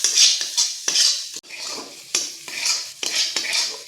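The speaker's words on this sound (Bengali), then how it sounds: "ততক্ষণ পর্যন্ত নাড়াচাড়া করবো যতক্ষণ না আদা রসুনের কাঁচা গন্ধটা চলে যায়" A spoon stirs ginger-garlic paste with onions and Kashmiri chili powder in a pan, with repeated close scrapes and clinks against the metal over a light sizzle, in an irregular rhythm.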